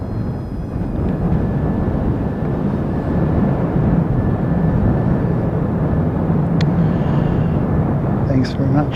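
An Emirates airliner passing overhead gives off a loud, dense rumbling roar that stays strong and even throughout, with a couple of faint high clicks near the end.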